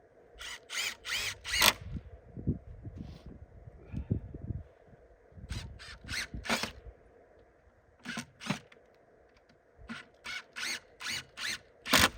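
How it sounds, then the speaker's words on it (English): A drill screws a jig onto a log outdoors in short, sharp whirring bursts that come in clusters, separated by low rumbling handling sounds and pauses, all close by. "the way you secure this jig here is by screwing it to the log you're working with"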